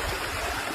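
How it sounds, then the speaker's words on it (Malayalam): Water from a small stream runs fast and steady after several days of heavy rain, a continuous close rushing and gurgling that fills the short moment without pause. "നല്ല ഉഷാറായി ഇതാ തോട്ടിലൂടെ വെള്ളം ഒഴിക്കുന്നുണ്ട്"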